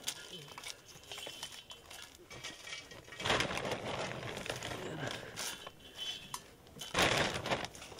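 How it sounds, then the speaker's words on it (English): Wood chips and wood pellets poured into a metal top-lit updraft gasifier, giving a rattling, clattering rush of pieces against metal in bursts, loudest near the middle and again toward the end. "we'll also add some wood pellets to it to give it a little bit higher fuel"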